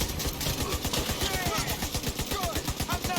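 A machine gun fires in The Division 2 at close range in New York. Rapid, even bursts run continuously and loudly through the whole stretch with little pause, and the background stays busy.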